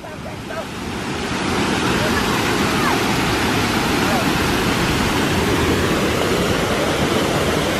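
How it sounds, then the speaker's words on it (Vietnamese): A waterfall on a stream in Moc Chau, Vietnam, roars as a steady, loud, broadband rush of falling water that swells in the first seconds and then holds constant. "Đi vào thác trước nào."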